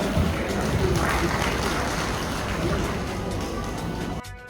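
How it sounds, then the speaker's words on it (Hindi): Audience applause at a public grievance hearing in Giridih, a dense steady clapping held throughout and cutting off abruptly near the end, with faint voices underneath. "सभी से अनुरोध होगा कि तालियों से सबका स्वागत किया जाए।"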